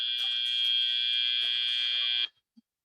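A loud, steady electronic buzzer sounds at a robotics competition, ending the autonomous period with one sustained tone of about two seconds before stopping abruptly.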